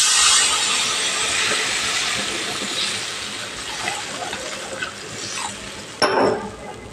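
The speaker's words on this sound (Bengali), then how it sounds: "এবার এর মধ্যে আমি জল দিয়ে দেবো।" Water poured into a pan of sautéed taro and potato curry for hilsa fish, a steady broadband hissing splash that eases off, ending with a brief clink.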